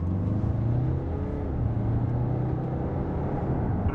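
A 2013 Hyundai Santa Fe cruises at highway speed, its steady engine drone and road rumble continuous throughout, with faint pitch shifts as the automatic gearbox moves through gears quickly.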